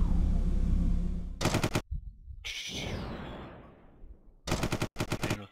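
Rapid bursts of spaceship gunfire in the Starfarer space game ring out in two separate volleys, each a quick run of sharp repeated shots, with a whooshing sweep and low rumble between them.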